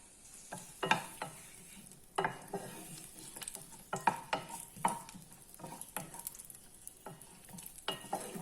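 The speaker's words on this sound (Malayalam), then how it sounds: "എന്നിട്ടിത് നമുക്ക് നല്ലോണം വഴറ്റണം" Sliced onion being stirred in hot oil for an onion capsicum curry, with a soft steady sizzle broken by repeated scraping strokes of a spoon against the pan, close and moderately loud.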